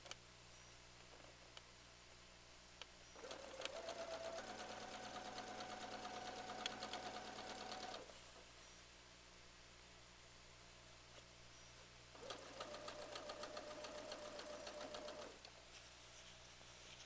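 A sewing machine stitches seams in two sustained runs of rapid, even mechanical whirring and ticking, close and steady, with a quiet pause between them.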